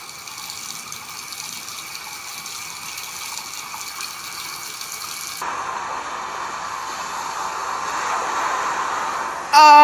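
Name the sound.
sink tap left running, flooding water (cartoon)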